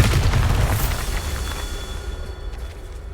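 Bombarda blasting spell going off in Hogwarts Legacy: a loud, deep boom with a broad crackling burst in the opening second, then a rumbling tail that slowly fades.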